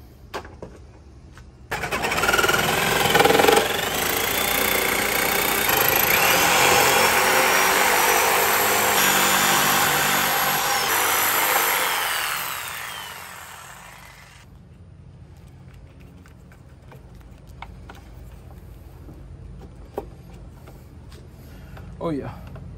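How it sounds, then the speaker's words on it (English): 3-inch hole saw cutting a hole while fitting a budget sound system to a Cushman Hauler Pro utility golf cart: a loud, steady whining grind for about twelve seconds that winds down, followed by quieter handling noise and talk. "this called for a 3-inch hole saw"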